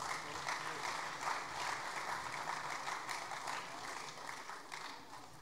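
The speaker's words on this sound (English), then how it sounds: "A huge round of applause for our golfers." Applause for school golfers at an annual school sports awards ceremony: faint, distant, steady clapping from the audience lasting several seconds, with no one speaking over it.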